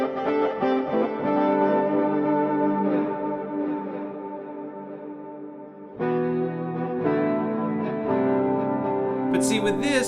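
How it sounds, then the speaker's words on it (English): Sustained Yonac Roxsyn synthesizer chords drenched in delay, reverb and chorus, a swelling washy tone that cuts off briefly and returns with a bright shimmering tail. "I added a little bit of delay and some reverb and a little bit of chorus"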